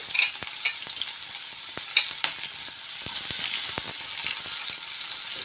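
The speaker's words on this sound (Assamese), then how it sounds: "এতিয়া দি দিম ইয়াতে কাটি ৰখা পিঁয়াজ সৰু সৰুকৈ কাটিছোঁ মই" Finely chopped onions fry in a pan with a loud, continuous close sizzle and crackle, broken by scattered sharp pops, and no talking.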